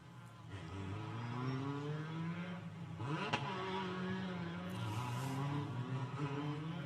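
Formula 4 race cars at the Macau Grand Prix circuit, their engines droning steadily and rising and falling in pitch as they pass, with a sharp crack midway and a loud, continuous wash of motor noise throughout.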